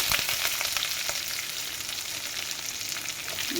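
Curry leaves and chopped onion hitting hot oil with garlic, a continuous bright sizzle and crackle with occasional stirring, close and steady.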